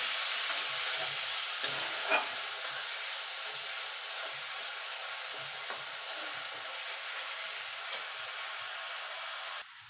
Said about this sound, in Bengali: দিয়ে একটুখানি নাড়াচাড়া করে নেবো যতক্ষণ আদার কাঁচা গন্ধটা তুলে না যাচ্ছে